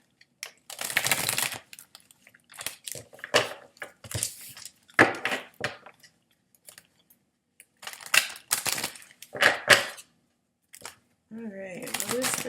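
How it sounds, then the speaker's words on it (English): Tarot cards are shuffled by hand in quick, crisp riffling bursts separated by short pauses, close to the microphone, ending with a brief spoken word. "Let me just shuffle these bad boys up."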